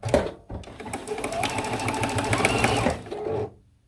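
A sewing machine runs steadily for about three seconds, attaching binding along the edge of a quilt, its loud, even mechanical whir rising after a brief start and stopping abruptly.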